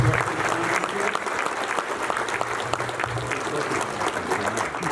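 Loud, steady applause from a large conference audience honoring sponsors at a trucking hall of fame event in Orlando, continuous dense clapping filling the whole stretch with a faint murmur of voices.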